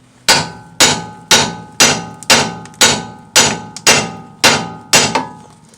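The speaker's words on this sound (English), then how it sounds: "so we can hit that with the hammer." A hammer strikes a lower ball joint on a 2014 Nissan Versa ten times in a steady rhythm, each blow a sharp ringing clank that quickly fades, loud and close.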